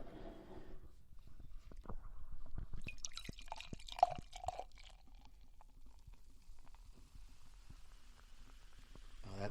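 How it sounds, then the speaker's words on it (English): Beer is poured softly into a glass, with gentle gurgling, a few drips and a faint fizzing as it settles. "And we will pour this bad boy in the glass."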